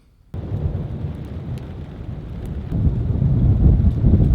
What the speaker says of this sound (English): There's lightning and thunder all around me.